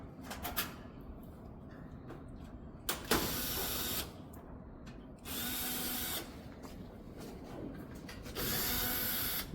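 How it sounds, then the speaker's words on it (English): A screwdriver backs Phillips screws out of the back panel of a Whirlpool stove in several short whirring bursts separated by pauses, heard up close with faint background chirps. "so we can remove all the screws"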